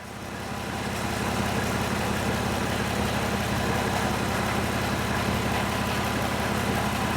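A 2013 Ram 1500 4x4 with the 3.6 V6 idles warm and steady, its low, even engine rumble constant and close throughout with no voices.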